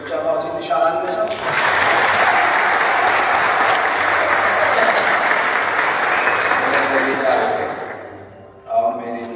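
Wedding guests clap in a dense, sustained burst of applause that swells and holds for several seconds, with a voice speaking briefly before and after over the ceremony hall.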